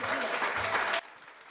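A crowd at a youth event claps loudly for about a second, with voices mixed in, then the applause cuts off to a quiet room.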